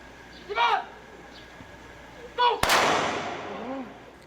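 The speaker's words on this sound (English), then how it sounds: "21 gunshots echo inside the Special Action Force compound Monday morning as a salute to the 44 police who died 6 years ago." Ceremonial gunfire at a police Special Action Force compound, one sharp crack that echoes and decays, with a voice talking before and around it.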